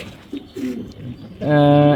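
A racing pigeon, a young bird in training, gives one clear, close coo near the end, after a stretch of low talking.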